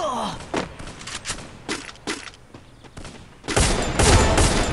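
Gunfire in a battle royale shooter game, a string of sharp single shots spaced irregularly, then a dense louder burst of rapid fire near the end, close and loud.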